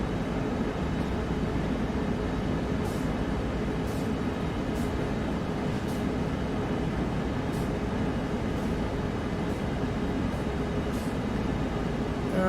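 A freight train locomotive on Cajon Pass in Train Sim World 3 rumbles steadily in a loud, constant drone, with faint periodic clicks from the rails overhead.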